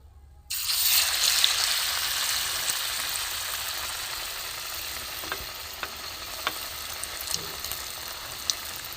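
Raw banana fritters (banana bomb) fry in a pan over low heat: a steady, close, hissing sizzle starts suddenly and continues, with a few faint pops and scrapes of stirring.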